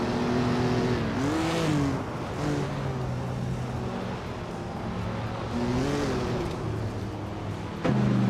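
Engine of a classic 1963 Jaguar E-Type in a racing game, a steady droning hum with rising and falling pitch shifts as it revs and shifts, loud and sustained throughout.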